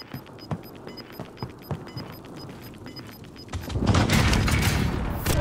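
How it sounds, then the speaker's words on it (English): Precision airstrike in Call of Duty Warzone: a run of quick thuds and pops, then a loud, sustained rumbling blast that swells and fills the end. "Enemy precision airstrike, get down!"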